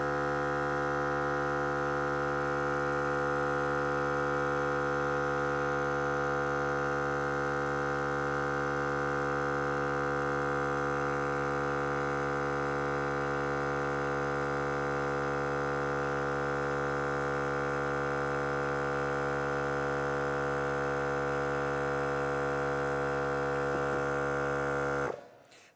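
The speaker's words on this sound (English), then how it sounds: "The air compressor will turn on." An Air Lift portable air compressor runs with a steady, droning hum while inflating an RV tire, holding one constant tone for about 25 seconds before cutting off abruptly at the end, with no voices.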